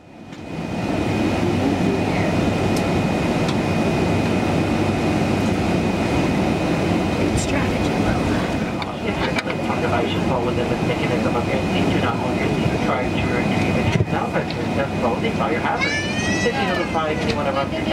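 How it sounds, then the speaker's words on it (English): Steady, loud broadband cabin roar fills an Air Canada Boeing 777-300ER economy cabin as it pushes back from the gate before an overnight international flight, with faint voices and brief tonal chirps in the background. "2 minutes later, and we're pushing back from the gate"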